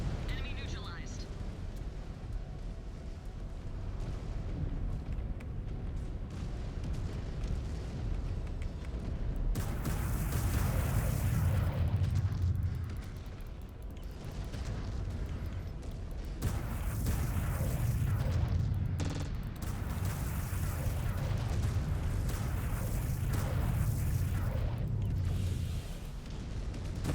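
Heavy rumbling explosions and booming blasts from MechWarrior 5: Clans battle combat, loud and continuous with low-end surges around mid-clip and later, layered under ongoing game noise and voices talking.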